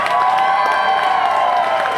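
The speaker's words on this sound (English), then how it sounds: "can we get one giant round of applause for all of our designers here today?" A large festival crowd at a cosplay fashion show applauds and cheers loudly and continuously for the costume designers, a dense wash of clapping with shouts mixed in.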